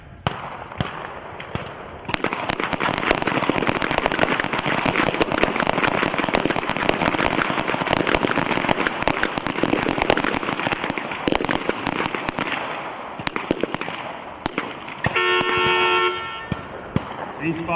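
Pistol shots in an Army team pistol match on an outdoor range, fired during a 15-second string from standing or prone two-handed positions: a dense, loud barrage of overlapping sharp cracks lasting most of the clip before stopping.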